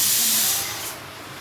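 Kitchen pressure cooker whistle releasing steam, a loud broadband hiss that stays strong at first, then tapers off and softens.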